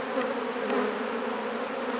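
Honey bees buzzing around a hive during work on the queen, a continuous close, even drone of many wings with no speech.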